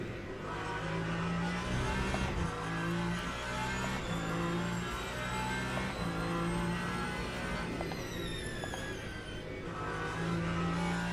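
Engine of a Peugeot race car in a multi-class racing video game at Spa, a steady loud droning whine that shifts pitch as it revs, continuous throughout with other cars faintly audible.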